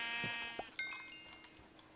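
Sheep bleating in Minecraft: a couple of short, close bleats early, then a faint game tone ringing out.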